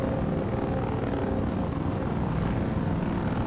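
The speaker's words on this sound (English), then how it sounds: "Strapped to the underside of a stolen Combine helicopter." A stolen Combine helicopter from Half-Life 2 roars close and loud with a thick, churning rotor drone and a faint high whine, steady throughout with no talking.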